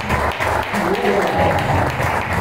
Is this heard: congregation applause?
yes